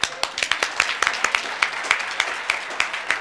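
Small crowd applauding award winners at a neighborhood honor roll awards ceremony, a sparse patter of individual claps at fairly even spacing, close and moderate in volume.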